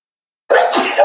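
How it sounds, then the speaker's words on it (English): A single short, sharp sneeze from a children's story, close and loud, bursting out suddenly after silence. "Charlie sneezed too."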